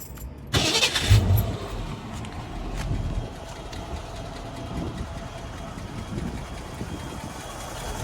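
A 1970 Ford Mustang with a 302 four-barrel V8 cranks briefly and fires up, then settles into a steady, rumbling idle heard close by.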